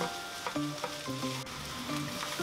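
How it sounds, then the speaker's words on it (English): Hibachi-style fried rice stir-fried with soy sauce, carrot and onion, a close steady sizzle with repeated spatula scrapes and clinks against the pan. "And now just break up your rice and stir the soy sauce and the carrot and the onion and everything into the rice."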